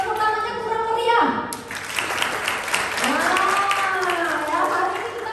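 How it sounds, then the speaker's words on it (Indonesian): An audience at a talk event claps together, a fairly full spread of applause mixed with a presenter's voice speaking over it throughout. "tepuk tangannya kurang meriah"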